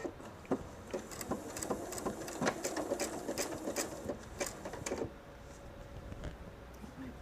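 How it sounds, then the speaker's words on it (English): A sewing machine stitches a jelly roll purse in short, rapid bursts of ticking, with a brief forward-and-back rhythm before settling, then stops, leaving a faint hum. "stitch forward 3 stitches, go back 3 stitches, and then start sewing"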